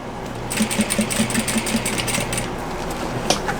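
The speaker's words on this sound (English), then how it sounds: "sew as close as possible to the edge" A sewing machine stitches close along a fabric edge, a steady fast mechanical whir with rhythmic needle ticks, running for about two seconds, then stopping to quieter room noise.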